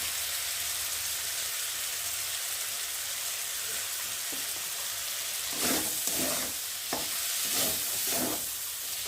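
Spiced puffed rice ghonto frying in a pan, a faint, even sizzle that gives way to several close, rhythmic scraping stirs in the final seconds.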